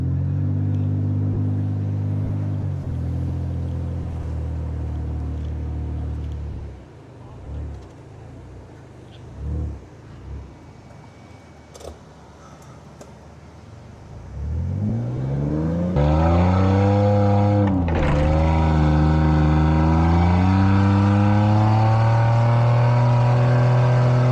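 A heavy truck's engine rumbles and revs steadily, dips for a few seconds, then climbs again with rising harmonics into a loud, sustained roar, close up.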